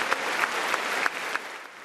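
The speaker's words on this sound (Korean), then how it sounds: "옆자리에 있던 김건희 여사도 함께 일어나 박수를 보냈습니다" Sustained applause from a large audience fills the chamber of the US Congress, dense clapping with a few sharper claps standing out throughout the short burst.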